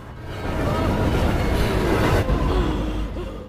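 A train passing at a railway crossing, a loud sustained roar of wheels and rail rumble swelling and holding for a few seconds, close by with no talk.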